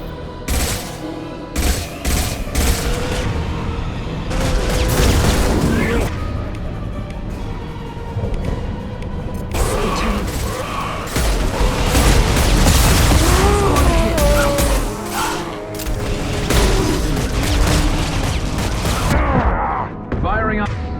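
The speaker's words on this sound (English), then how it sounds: "Firing a high-impact shot." High-impact gunshots fire in a sci-fi shooter battle, heavy repeated blasts and booms packed densely over a loud, continuous combat din, with a voice talking at times beneath the noise.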